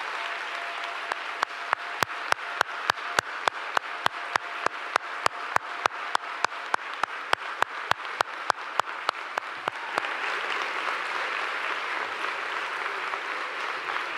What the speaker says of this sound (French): je vous invite à applaudir vos parents